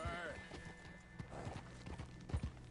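Horse hooves clip-clopping at a run in the Red Dead Redemption 2 game, a steady low thudding rhythm under speech and game ambience, with a faint whinny early on.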